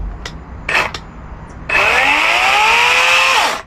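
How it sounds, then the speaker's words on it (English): Wild Badger 40-volt electric chainsaw with a 16-inch bar: a couple of brief taps and whirs, then the motor spins up into a loud, steady high-pitched whine for about two seconds before winding down. "Wild Badger electric chainsaw. 16-inch bar."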